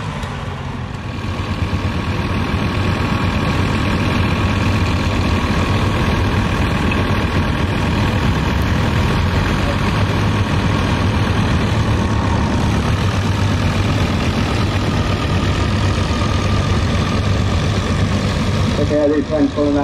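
A vintage tractor engine labours at a tractor pull in Cobden, Victoria, a loud, steady low rumble held for about twenty seconds with crowd noise and commentary underneath.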